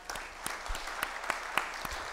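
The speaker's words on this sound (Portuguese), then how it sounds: "eu gostaria de uma salva de palmas," Sparse, faint clapping from a small audience at a formal ceremony, individual sharp claps spaced irregularly rather than a full ovation.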